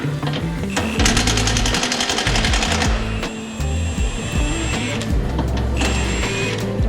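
A power tool rattles in loud, rapid bursts while loosening a 19 mm bolt on a 2016 Mazda 3 lower control arm, buzzing hard with brief pauses and changes in pitch, mechanical and close.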